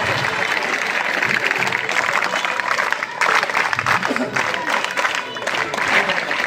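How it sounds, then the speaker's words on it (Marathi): An audience at a farewell ceremony applauds to welcome a guest lighting the ceremonial lamp, sustained loud clapping throughout with a voice talking over it. "सर्वांनी जोरात टाळ्या वाजवून त्यांचं स्वागत करायचं आहे"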